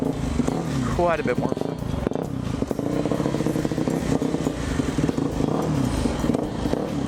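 A street-legal Yamaha WR250F dirt bike idling on choke inside a garage, a loud steady rattling engine note with a brief rev near the start, under someone talking close by.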